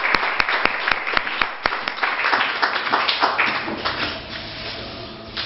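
A church congregation applauds to acclaim the word of God, a few sharp early claps swelling into sustained crowd clapping that fades toward the end.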